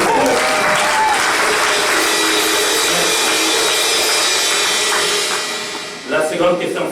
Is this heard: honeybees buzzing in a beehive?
no